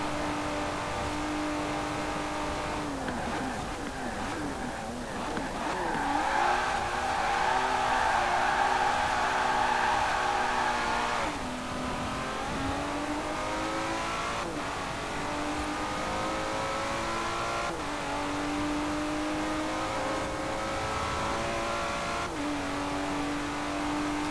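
A non-turbocharged racing car in Forza Horizon 4 revs hard and raucously through repeated upshifts and downshifts, its engine note climbing and dropping steadily over a long, continuous stretch with no speech.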